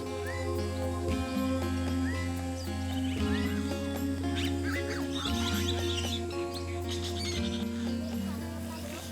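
Birds call in the Kaw wetlands of French Guiana, with several overlapping chirps and whistles over a steady low hum and background chatter.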